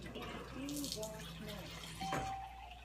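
A little water runs from a tap into homemade raw hummus, a quiet trickle and splash in a kitchen with faint talking around it.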